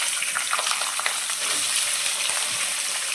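Potatoes and capsicum sizzle and crackle steadily in hot oil, a dense hiss with scattered pops, close by and without talk.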